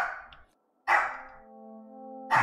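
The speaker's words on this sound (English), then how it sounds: "Crazy ass dog is raring to go this morning" A dog barking nearby, with a few loud, sharp barks separated by short pauses and a ringing tonal tail after the second bark.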